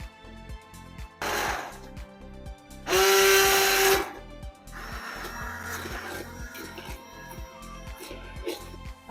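An electric chopper grinds mustard greens for sarson ka saag, a steady mechanical whir in close bursts, the loudest and harshest run lasting about a second mid-clip, with a rhythmic motor pulse throughout and no talk.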